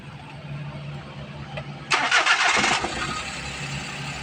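Minivan engine idling roughly with low power, a low rumble that surges briefly louder for about a second as it revs, then settles back to an uneven idle, heard up close.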